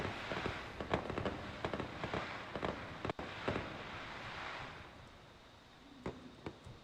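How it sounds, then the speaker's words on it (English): Video game fireworks going off at a 10-year anniversary statue, a string of sharp pops and bursts at irregular intervals with crackling tails, moderately close and heard alone. "And here are the fireworks."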